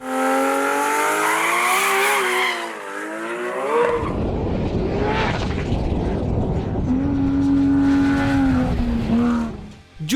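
A 2000hp+ Nissan GT-R race car makes a wild run down a runway, its engine roaring loud and close with rising and falling revs, gear changes and a harsh blast partway through.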